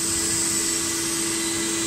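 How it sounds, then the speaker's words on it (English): A vacuum cleaner pump drives a flow bench, drawing air through a test orifice and out a long pipe: a loud, steady whine with a constant hum beneath, unbroken throughout. "It goes into the pump, vacuum cleaner pump, where it gets pumped out along a long length of pipe"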